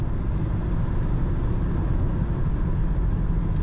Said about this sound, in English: This car picks up speed.